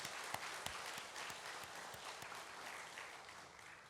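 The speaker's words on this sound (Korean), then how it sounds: "우리 주님께 영광 박수 한번 크게 돌립시다." A Sunday morning worship congregation clapping loudly, a dense, fairly distant wash of many hands with a few sharper individual claps standing out, fading slightly toward the end.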